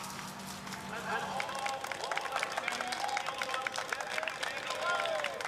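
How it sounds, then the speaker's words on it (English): Roadside spectators at a women's elite cyclo-cross World Cup race in Namur, Belgium, applaud and cheer the race leader, a steady patter of clapping and crowd noise under continuous commentary. "appreciative applause for the leader"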